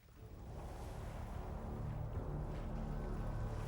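Nautilus submarine engines starting up to full speed ahead in an animated series, a low rumbling churn that rises from quiet to a steady, dense engine and water wash within the first second.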